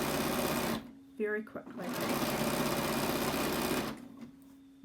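A sewing machine fitted with a number 10 edge foot stitches in fast, steady runs of motor whir with a brief pause, while a person talks over it.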